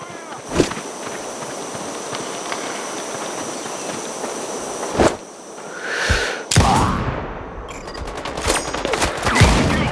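Bursts of gunfire crack out amid a busy soundscape in the video game Sniper Ghost Warrior Contracts 2, with sharp single shots, rapid volleys and rumbling movement, loud and close.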